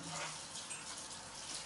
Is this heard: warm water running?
yes